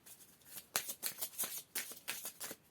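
Tarot cards are shuffled in a rapid series of soft riffling bursts, close and faint, about seven quick flutters in a row.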